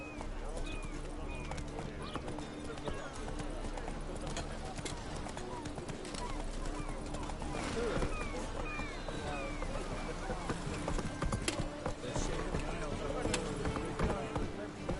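Roach the horse gallops through Witcher 3: Wild Hunt, steady clip-clopping hoofbeats running throughout under game ambience, with voices talking over them.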